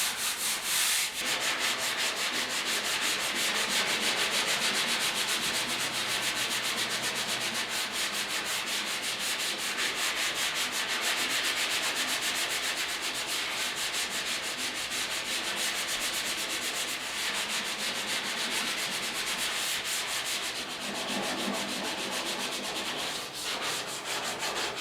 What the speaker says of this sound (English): we've got this lightly sanded with 220